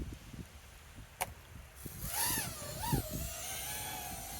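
A Stace Invader FPV drone's propellers give a sharp crack, then a rising, warbling whine swoops up and down and settles into a steady buzz, fairly close and without speech.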